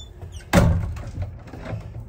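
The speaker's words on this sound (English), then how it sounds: "I'm gonna go out the back door now, onto the little porch." The back door of Herbert Hoover's historic birthplace home opens onto a small porch with one sharp, close clunk, followed by a soft rustle of footsteps and room noise.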